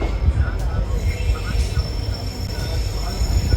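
A passenger train rolls past outdoors in the cold of Rajasthan, giving a steady loud rumble with faint wheel squeal on top. The sound continues through the whole stretch with no clear talk over it.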